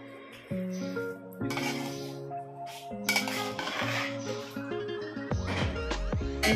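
A spoon scraping and clinking against a metal bowl while cold boiled potatoes and chicken paste are mixed into a roll filling; irregular near clatters and ringing knocks come one after another, with no talking.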